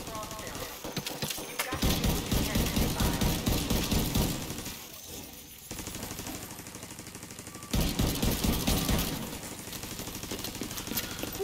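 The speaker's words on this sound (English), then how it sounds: "What the hell are you shooting at?" Gunfire in The Division 2 video game: loud bursts of rapid automatic shots in long stretches, interrupted by short pauses and mixed with other game sounds.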